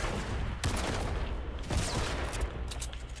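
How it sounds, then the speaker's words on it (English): Rockets are fired in an online shooter game, heard as dense, noisy bursts and booms over constant battle din, loud and sustained through the short stretch. "They're shooting rockets!"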